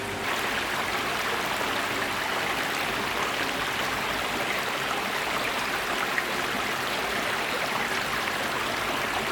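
Steady rushing water of a stream on the Isle of Arran flows continuously and fairly loud, a broad even hiss with no voices.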